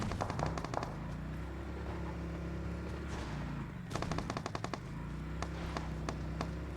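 Rapid bursts of automatic gunfire in the mobile battle-royale game PUBG Mobile, several volleys rattling over a steady game background hum, fairly faint.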